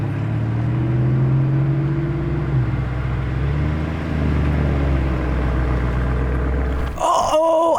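Lamborghini Urus Performante and a test mule pulling away, a loud low rumbling engine drone building and holding steady, then a brief sharper burst at the end.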